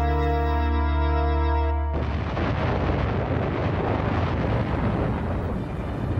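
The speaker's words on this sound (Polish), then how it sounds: "Zatknijcie uszy, nim rozlegnie się wszechpotężna eksplozja." Supervolcano eruption: after a sustained low tonal drone, a massive broadband explosion bursts in around two seconds and rolls on as a loud, continuous roaring rumble to the end.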